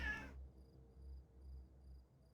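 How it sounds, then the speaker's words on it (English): A hungry cat gives one short, close meow at the very start, followed by quiet room hum. "his starving meows must be answered"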